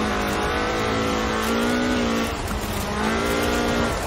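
A Ford RS 1800 rally car engine in Forza Horizon 4 drones loudly at high revs, pitch climbing then dipping at a gear change before rising again, with a hint of tire noise.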